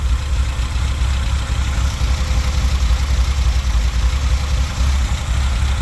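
Toyota 4A engine fitted with a Schneider Racing regrind cam, swapped into a Tercel wagon, idling with a steady, loud, lumpy low rumble throughout, close by and without talk.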